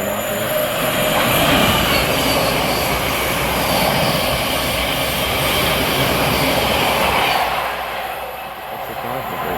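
A Class 700 electric train rushes past close by at Welham Green on the East Coast Main Line, with a loud, steady roar and rumble that eases slightly toward the end.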